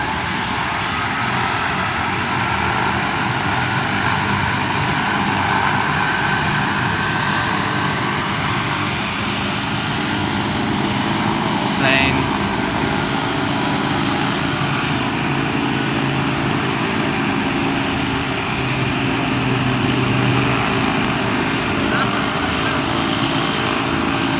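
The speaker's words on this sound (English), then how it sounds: "this plane back here is taking off" A propeller airplane taking off from an airfield, heard as a steady, continuous engine drone that holds at a fairly constant level throughout, with faint voices nearby.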